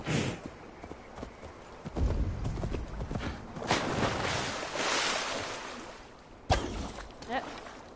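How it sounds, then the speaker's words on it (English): Horse hooves clip-clopping in the Assassin's Creed video game, a steady run of quick hoofbeats with splashy swells behind, moderately loud, with someone talking over parts of it. "Fucking stupid ass horse."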